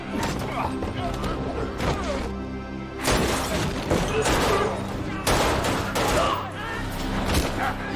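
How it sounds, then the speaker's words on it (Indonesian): Gunfire in a war film, rapid bursts of shots and smashing impacts over a music score, loud and dense, with an intense stretch in the second half. "salah satu rekan Tyler menembak anggota Amir"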